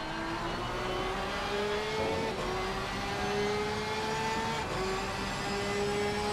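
Porsche race cars in Assetto Corsa Competizione battling nose to tail at Valencia, engines holding a continuous high whine with rising revs and gear changes, steady and loud with no commentary over it.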